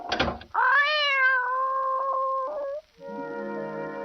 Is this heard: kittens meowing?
yes